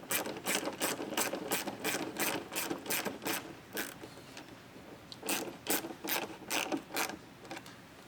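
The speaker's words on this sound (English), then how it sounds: "Now we're going to go ahead and tighten this down." A ratchet tightening a mud flap fastener on a 2023 Toyota GR Corolla, giving rapid rhythmic clicking bursts in two runs separated by a brief pause, close and crisp without voices.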